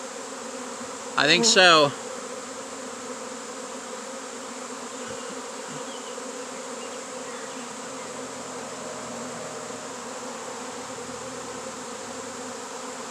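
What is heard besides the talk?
honeybee swarm fanning and landing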